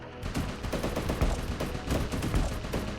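Automatic rifle fire in the shooter game Gunstoppable, a rapid, loud burst of repeated shots in quick succession, close and sustained, with no voices.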